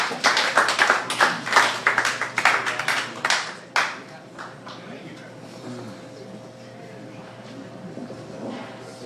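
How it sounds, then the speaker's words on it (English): A comedy club audience gives a short, uneven burst of clapping for a comedian coming to the stage, fading after about four seconds into a quieter room with talking. "Round of applause, guys."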